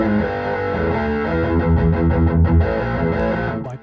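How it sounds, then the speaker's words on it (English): A distorted electric guitar plays chords through a swirling rotary speaker effect, warbling steadily and loud before fading out at the end. "I'll switch in our distortion here and go back to that Leslie."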